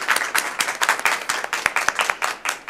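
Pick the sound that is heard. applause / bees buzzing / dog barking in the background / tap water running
applause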